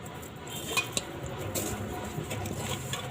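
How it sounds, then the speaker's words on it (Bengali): Fish being mixed by hand with salt and turmeric in a bowl, soft faint squishing and stirring with a couple of light clinks against the bowl, quiet and close. "প্রথমে মাছটা লবণ আর হলুদ দিয়ে মাখিয়ে নেব।"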